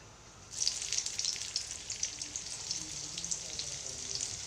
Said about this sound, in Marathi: आता आपलं तेल गरम झालेलं आहे आपण त्यामध्ये आता आपली कंटकी तळून घेऊ